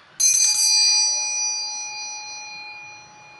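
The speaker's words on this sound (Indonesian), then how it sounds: "ditandai lonceng berbunyi" A single bright bell strike rings out clearly and alone, its metallic tone holding for a moment and then slowly fading into near silence.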